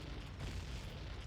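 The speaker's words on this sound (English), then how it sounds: "Oh, my low health sound is an explosion, which I'm sure will get incredibly annoying." A single muffled, low explosion boom plays as the low-health warning sound in an Ocarina of Time randomizer game, faint and brief.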